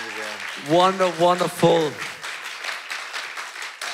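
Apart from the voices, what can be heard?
audience applause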